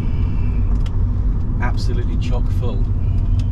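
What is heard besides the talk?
Rover 200 BRM car driving on the road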